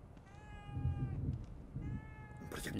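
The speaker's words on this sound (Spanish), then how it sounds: "Un gato." A cat in the horror video game The Evil Within 2 gives two drawn-out, close meows over low rumbling game ambience, followed by a short burst of noise at the end.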